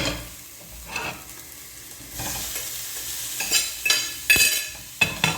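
Garlic sizzles as it fries in a pan and is stirred, a close crackling hiss broken by scraping strokes and clinks of a utensil against the pan.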